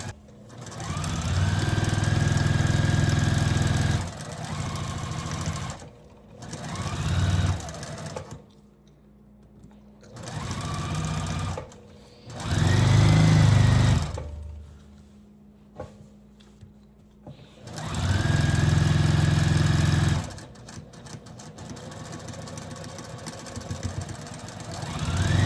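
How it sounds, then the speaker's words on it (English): A sewing machine stitches rows of 10-inch patchwork quilt blocks with the presser foot lowered, running in steady humming bursts of several seconds each, separated by pauses and shorter back-stitch runs, with no talk. "Lower your presser foot, and I always start off with a back stitch at the beginning and at the end of these"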